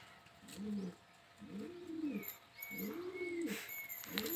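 Pigeon cooing close by, four rhythmic low rolling coos spaced about a second apart, with faint higher chirps and thin sounds in the background.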